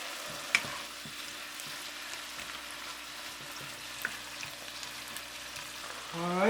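Cashew shrimp stir fry sizzles steadily in a pan, a soft continuous frying hiss with a couple of small pops and a clink near the end.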